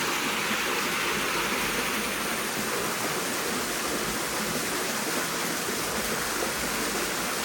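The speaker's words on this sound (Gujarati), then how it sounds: "જો પાણી આવે." Water gushes from a well pipeline into a wheat field, a steady, dense rushing hiss that stays constant and close with no pauses or voices.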